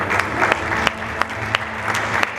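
Steady audience applause, dense clapping from a crowd throughout with a few sharper claps standing out.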